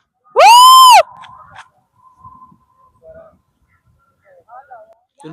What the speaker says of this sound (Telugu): మా అరిసిన అరుపు అనేది 3-4 టైమ్స్ రివర్స్ రివర్బ్ అయ్యి వస్తుంది